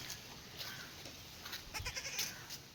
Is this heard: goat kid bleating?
yes